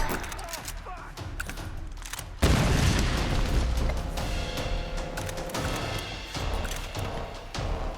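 A grenade launcher round explodes in the Tomb Raider video game, a sudden loud boom with a rumbling tail followed by scattered gunfire and mechanical clatter, with voices talking around the action.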